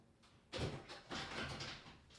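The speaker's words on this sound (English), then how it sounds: "Hold on, let me close this door" Door closed indoors in a room, a heavy thud followed by a short scraping, rattling movement of the door settling, fairly close with no talking.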